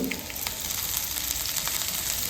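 Chopped garlic and onion frying in hot cooking oil in a pan, a dense, steady, close sizzle that hisses continuously with no pauses.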